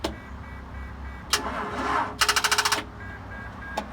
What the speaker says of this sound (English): got a little skid steer that needs a jump start